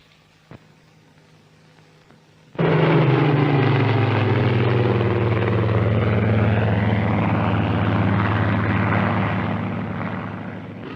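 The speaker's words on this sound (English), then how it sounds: "The pupils now have an opportunity of slow flying their aircraft under actual carrier deck landing conditions." Propeller training aircraft flying slowly in 1946 carrier deck landing practice, its engine bursting in abruptly with a loud, steady droning roar that gradually fades toward the end.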